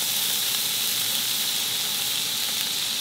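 A sirloin steak sizzling in a frying pan, a loud, even, close hiss that holds steady for the whole stretch with no voices.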